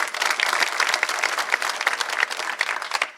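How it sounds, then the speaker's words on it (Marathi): Dense, sustained applause from a large crowd at a Dhangar community rally in Parli, many hands clapping loudly and continuously from start to finish with no pauses. "यांच्यासाठी एकदा टाळ्या वाजवा।"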